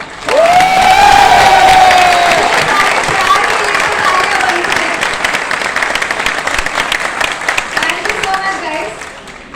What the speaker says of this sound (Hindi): एक बार हमारे ऑडियंस के लिए भी तालियां होनी चाहिए